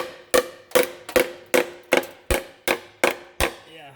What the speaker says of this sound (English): Let's give it a few taps here.